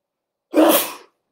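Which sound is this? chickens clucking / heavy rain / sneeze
sneeze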